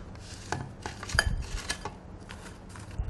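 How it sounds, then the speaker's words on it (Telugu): Crushed ice is tipped and spread into a serving bowl, making soft crunchy clatters and light scraping taps in a quiet kitchen. "సో ఫస్ట్ నేను కొంచెం ఈ క్రష్డ్ ఐస్ కింద వేసుకుంటున్నాను"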